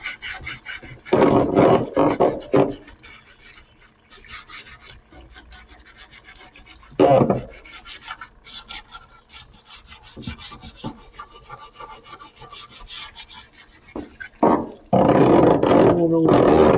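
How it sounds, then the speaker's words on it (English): Steel brush scrubbing the edges of a valve cover PCV plate, loud rasping bursts of scrubbing separated by quieter pauses, with someone talking in between. "And I'll even take this steel brush and go around the edges"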